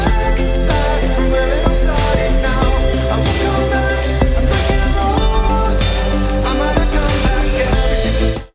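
Final chorus of a track plays loud and dense, with a heavy sustained low end, steady driving drums and full layered harmony throughout, ending abruptly.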